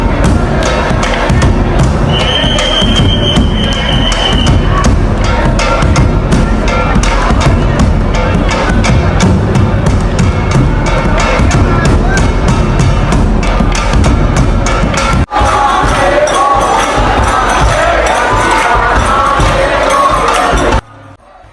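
A big crowd packs Dwarkadhish temple in Mathura during Holi, singing rasiya to nagada drums. Loud, dense and continuous, it carries drum thumps and massed voices for about fifteen seconds, then shifts to a brighter, busier crowd din before cutting off.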